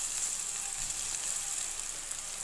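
Bitter gourd slices with turmeric, salt and green chillies sizzle steadily in a covered pan, a continuous close, even hiss of frying oil with no pauses.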